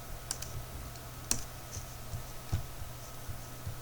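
Typing on a computer keyboard, a few sparse, distinct key clicks spaced irregularly over a quiet room hum, close and fairly soft.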